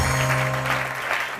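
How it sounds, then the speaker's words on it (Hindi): Studio audience applause at a Hindi-language weekend comedy talk show, a steady dense wash of clapping filling the short moment without any voice over it. "तालियां।"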